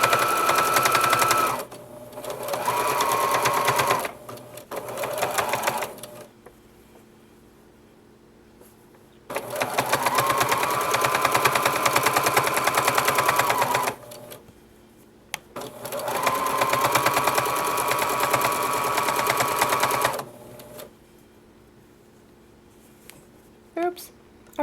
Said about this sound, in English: Now in these heavy spots where there's a lot of seams, it's going to be a little hard to sew over.